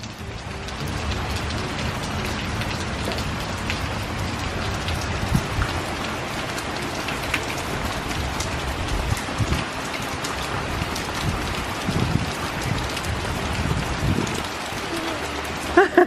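Steady rain falls outdoors on a cold day, a dense even patter with drops striking surfaces and puddles, constant and fairly close throughout with no talk.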